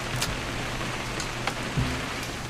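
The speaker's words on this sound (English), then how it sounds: "It's gonna rain the whole weekend, isn't it?" Steady rain falls in the video game What Remains of Edith Finch, a soft continuous hiss with a few brief louder drops, heard alone at an even level.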